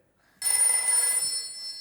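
A telephone rings in a loud, steady electronic trill as a call goes out to a friend on a comedy quiz-show set, sounding close and continuous for over a second, with no talk over it.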